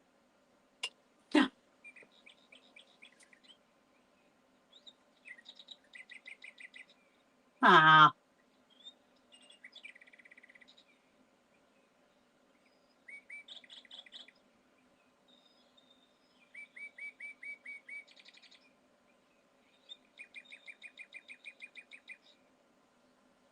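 A small pet bird, given as a birthday gift, chirps in short bursts of thin high twittering trills spread over a quiet room, with one brief human exclamation and a couple of sharp knocks.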